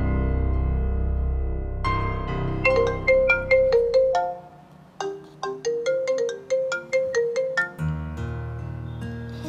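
A mobile phone ringtone plays loudly and clearly alone, a melodic sequence of bright electronic notes in repeating phrases, with a brief pause before the tune starts again.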